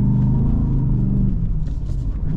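A 2024 Ford F-150 Raptor R climbing sand dunes, with a loud, close, continuous engine rumble that holds steady and wavers slightly as it pulls; no voices.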